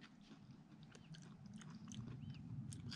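Someone bites into a spicy green tomato bite and chews with quiet, close crunching that builds gradually over a faint background, with no one talking.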